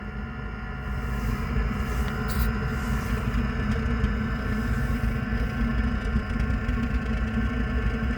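A brand-new diesel heater runs just after firing up on startup, a steady low rumbling, engine-like combustion drone that swells slightly after the first second and then holds constant, fairly close.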